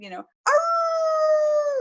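A person vocally imitates a wolf howl: one long, steady, sustained howl that follows a brief burst of voice and a short pause, loud and close.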